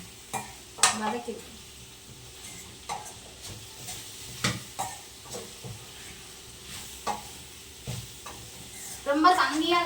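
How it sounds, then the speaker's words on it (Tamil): Mutton coated in masala and chilli powder sautéing in a pan, a low sizzle broken by regular scraping stirs every second or so, with a louder clatter near the end and no talk. "மட்டன் நல்லா வதங்கிடுச்சு."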